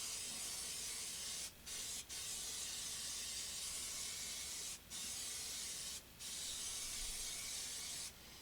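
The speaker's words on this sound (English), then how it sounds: "I'm just going to spray the whole thing" Spray adhesive from an aerosol can hissing onto cardboard in long continuous bursts separated by brief pauses, steady and close, with an exhaust fan running indoors.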